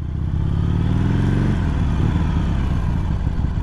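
A 2020 Harley-Davidson Iron 883 idles loud and close, a deep lumpy rumble with a brief rising rev at the start that settles back into the steady throb.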